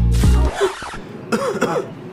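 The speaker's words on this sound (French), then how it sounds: "je tousse juste pour accentuer le problème" A single harsh cough up close, followed by a couple of softer throaty coughs and a brief throat clearing.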